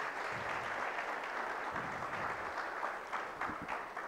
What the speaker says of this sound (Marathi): प्रोजेक्ट न्यूरोमॅपसाठी पण जोरदार टाळ्या झाल्या पाहिजे